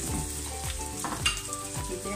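Leek frying in a pan with aromatics for Cuban-style rice, a steady close sizzle and crackle with occasional stirring scrapes, no voices.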